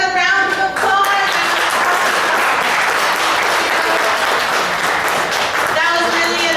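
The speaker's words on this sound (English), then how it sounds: "let's give her another round of applause" A school assembly audience applauds, loud dense clapping that runs continuously from start to finish, with some crowd voices and a brief tone heard at the beginning and end.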